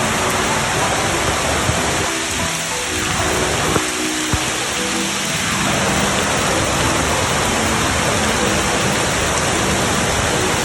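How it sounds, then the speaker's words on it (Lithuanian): Tropical jungle downpour near Ollantaytambo, Peru: a loud, continuous roar of heavy rain close by, with faint voices briefly murmuring beneath it. "Kaip čia toks lietutis"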